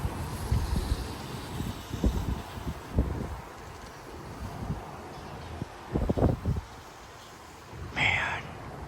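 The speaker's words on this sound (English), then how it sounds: "But now we're getting strong wind gusts." Strong wind gusts from the outer bands of a severe thunderstorm buffet the microphone in Frisco, Texas, rising in several rumbling bursts with quieter stretches between, and a voice briefly speaks near the end.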